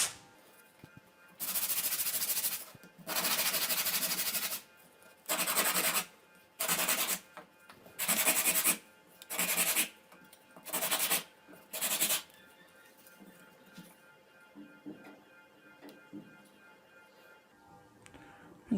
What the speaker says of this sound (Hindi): अब इनको आप साइडों को फ्लैट करने के लिए आप ये रेगमाल यूज़ करेंगे।